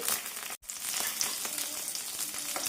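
Green and dried chilies frying in a pan with a steady, close sizzle and faint crackles, broken by a brief gap near the start, with no talking.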